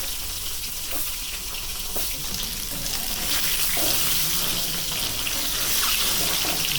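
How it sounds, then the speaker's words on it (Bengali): Eggs fry in hot oil in a wok, giving a steady, bright sizzling hiss that swells and grows louder over several seconds, with no talking. "একটু লাল লাল করে ভেজে নেব।"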